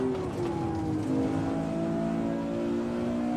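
A car engine in the racing game Assetto Corsa hums under steady throttle, with clear tonal engine notes that drift gently in pitch at a moderate, even level.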